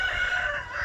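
A farm rooster crows loud and close, one sustained cock-a-doodle-doo filling the whole moment with a steady ringing tone and no talking.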